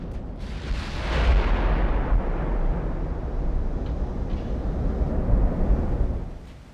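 Warship guns fire at destroyers during a naval battle in Ultimate Admiral: Dreadnoughts, heard as a loud, continuous stretch of heavy booming and rumbling salvos with no voices.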